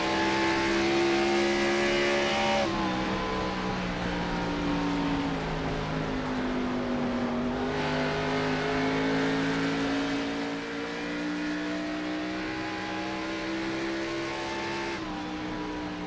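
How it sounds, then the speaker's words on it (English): Xfinity Series stock car engine in a racing sim at Iowa, revving loud and steady with rising and falling pitch as the car accelerates and lifts, gear shifts at intervals, alone with no talk. "Listen to the engine in this Xfinity car."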